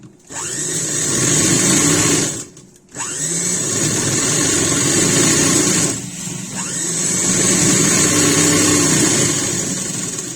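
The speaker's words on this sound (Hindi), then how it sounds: "अब इसके ऊपर अपन ऐसे सिलाई लगा लेंगे, उसे फोल्ड कर देंगे" Electric sewing machine stitching blouse fabric, running loud and steady close by, with two brief pauses where it stops and restarts.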